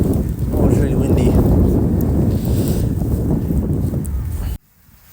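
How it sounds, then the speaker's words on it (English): Strong wind gusts batter a microphone outdoors during a drone wind test in 44 mph gusts, a loud, dense low rumble and buffeting that roars steadily before cutting off abruptly near the end. "Oh, it's really windy."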